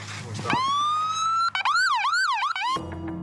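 A police siren on a black-painted MRAP armoured police vehicle rises into a loud wail, switches to a rapid yelp, then cuts off abruptly, leaving a low engine rumble underneath.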